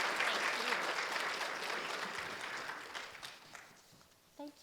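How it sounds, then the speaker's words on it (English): Warm audience applause for a lecturer at an academic lecture, loud at first and gradually thinning out over a few seconds to scattered claps before fading, with a brief voice near the end. "Please warmly applaud our colleague and friend and teacher, Kristin Kalsem."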